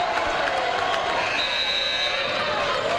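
Steady crowd roar fills a gym during a high school basketball season opener, a dense continuous wash of cheering and chatter with commentators talking over it.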